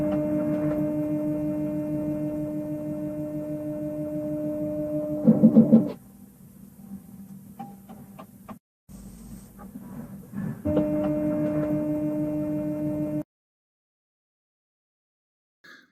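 An LG refrigerator hums steadily, then a brief buzzing clatter sounds as its damper opens to pass cold air, followed by a quieter stretch before the hum resumes and cuts off.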